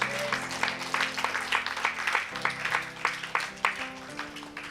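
An audience at a Christian healing service claps for Jesus in a steady, rhythmic beat that runs throughout, mixed with sustained music in the background.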